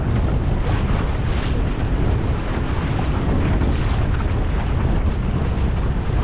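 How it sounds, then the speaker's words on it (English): Small sailing dinghy beating to windward with a second reef in 15-plus knots of wind, with steady, loud wind buffeting and rushing water throughout and no talking. "I can actually sail to windward with my second reef in what appears to be 15 plus knots."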